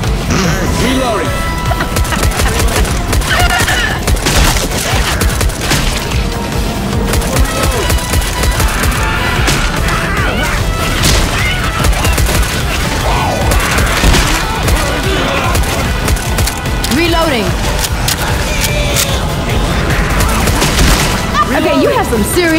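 Rapid gunfire in the Left 4 Dead 2 zombie shooter, dense bursts of shots and impacts crackling almost without pause over a burning building scene, with players talking over the din.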